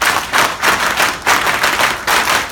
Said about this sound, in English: we have a round of Elken applause